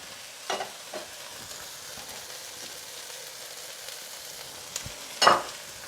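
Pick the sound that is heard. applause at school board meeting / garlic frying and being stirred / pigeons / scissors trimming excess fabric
garlic frying and being stirred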